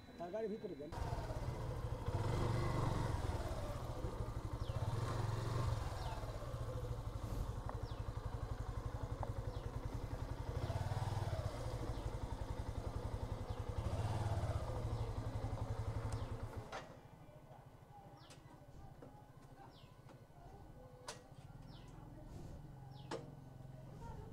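A motorcycle engine idles with a steady rumble while being parked, then cuts out partway through, leaving quieter clatter and voices talking nearby.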